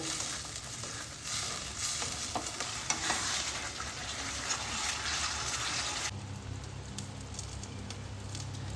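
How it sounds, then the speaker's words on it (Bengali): Chopped tomatoes being sautéed with spice paste in a pan, giving a dense, steady sizzle up close that softens partway through, with no talking. "এইটা টমেটোর কাঁচা গন্ধ না যাওয়া পর্যন্ত এই মশলার সঙ্গে আমি কষাতে থাকব"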